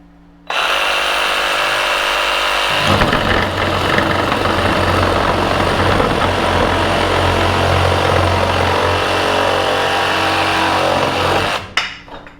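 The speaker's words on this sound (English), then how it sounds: "we're gonna pull our trigger in, and then we're gonna make our plunge cut down" A Craftsman CMCS300 brushed reciprocating saw starts up and then makes a plunge cut, giving a loud, close, steady buzzing drone that holds for about nine seconds before stopping abruptly.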